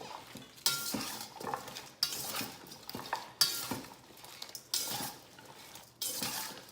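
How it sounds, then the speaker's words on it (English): A spoon stirs a habanero pickling mixture in a pot, making repeated scraping and clinking strokes in a steady rhythm, close and fairly loud, with no voices. "I'm gonna give that a mix, so get all that mixed in together"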